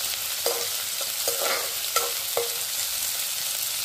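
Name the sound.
onion and capsicum frying in oil in a pan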